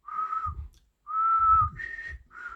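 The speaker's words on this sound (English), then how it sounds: "I even whistle the note, trying to hit the note, and with whistling" A person whistles sustained single notes in four short phrases, clear and close, the pitch stepping up slightly on the third phrase, with faint breathy noise between them.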